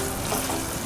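Onion and garlic frying in a pan for batchoy, a steady close crackle with a watery hiss throughout the brief moment, no voices.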